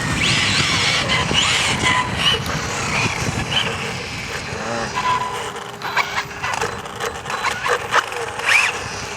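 A Hobao Hyper VS2 RC car runs with a faulty rear right wheel, its motor whining in uneven bursts among skids, scrapes and rattles, with people talking nearby.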